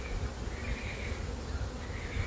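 Honeybees fanning their wings at a queenless hive, a soft continuous buzzing hum, faint and steady with slight swells, no voices.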